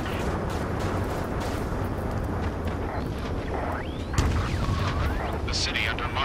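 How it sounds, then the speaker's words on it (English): Low rumbling battle noise from the Ace Combat 7 video game, with gunfire and jet roars echoing through city streets, runs as a dense, continuous bed under a speaking voice, with a brief louder burst near the end. "Gunfire and the roar of jets echoing through the streets."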